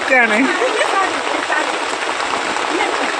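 Heavy rain pours down in a steady, loud wash, with a voice speaking briefly at the start over the downpour.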